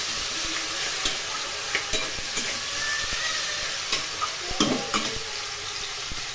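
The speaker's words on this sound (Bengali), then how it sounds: "খুবই সাধারণভাবে আমি এই চচ্চড়ি রান্না করছি" Mixed vegetable chorchori fries in a pan with a steady close sizzle while a spatula scrapes and stirs it in repeated short strokes.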